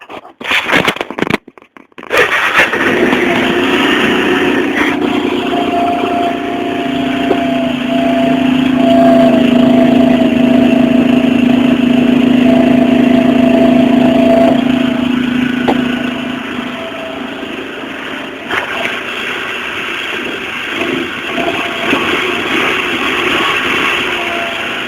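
A homemade 125 GT three-wheeler's engine catches after a brief stuttering start, then runs loud and close at a steady idle with a slight rise and settle in pitch.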